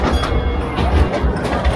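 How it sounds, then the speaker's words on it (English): A funfair roller coaster train rushes past close by, a loud rumbling clatter filling the short moment, with no pause or break in the noise. "There goes the train."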